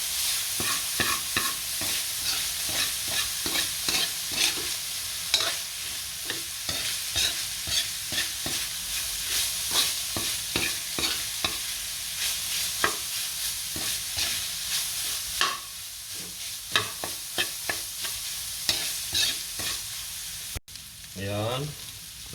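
Meat for Filipino-style baked macaroni sizzles steadily in a pan while being stirred, with repeated scraping clatter of the spoon against the pan throughout; no talking.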